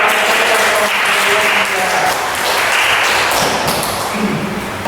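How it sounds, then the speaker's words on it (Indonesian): A classroom full of students claps together after group presentations, a loud, dense, continuous burst of applause with faint voices mixed in. "jadi tepuk tangan untuk kita semua."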